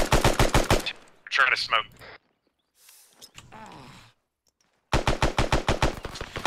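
Rapid automatic gunfire in ARMA 3 fires in loud bursts at the start and end, with a soldier's brief speech and shuffling sounds in the gap between.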